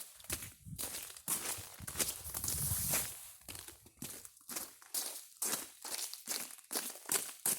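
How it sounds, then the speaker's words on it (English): Ice cracking and crunching underfoot on frozen, snow-covered ground, in a steady run of close footsteps, each giving a sharp crisp crunch. "If you hear that, that's ice breaking."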